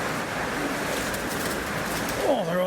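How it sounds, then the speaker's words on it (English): Pigeons disturbed from their nests under a river bridge, a soft coo rising near the end over a steady background wash of rushing water and wind. "I disturbed a load of nesting pigeons."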